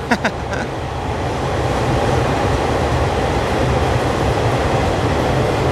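Thai passenger train cars, ending with a second-class car, roll through Don Mueang station with a loud, steady rumble and rail noise that follows a few sharp clanks at the start.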